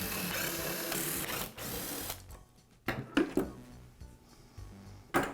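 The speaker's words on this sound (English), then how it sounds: "Next, I'll remove the cutter head lock. It's held in place with 4 screws." Screws being backed out of the cutter head lock on a DeWalt planer, a near series of dry mechanical clicks, ratcheting and metallic taps with short pauses between bursts and no talk.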